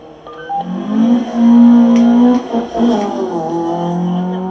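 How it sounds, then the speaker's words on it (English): Honda VTEC car engine revving high through a gymkhana slalom at Killarney International Raceway, a steady whine that climbs and dips, fairly loud and continuous, with no voices. "Listen to that high revving Honda VTEC."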